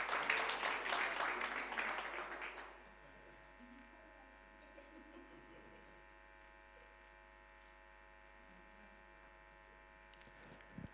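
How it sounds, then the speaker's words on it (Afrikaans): A church congregation applauds for about three seconds, a dense wash of clapping that fades out, leaving a steady electrical hum and faint room noise. "Kom ons gee hulle 'n lekker hande klap."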